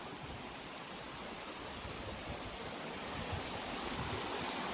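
Clear little creek near Eagle River in Michigan's Keweenaw Peninsula, flowing as a steady, full rush of water that stays close and even throughout with no voices.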